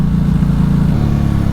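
A 2010 Ducati Hypermotard 1100 Evo motorcycle engine runs loud and close with a deep, throbbing twin-cylinder idle that lifts briefly and then settles lower, with no voices.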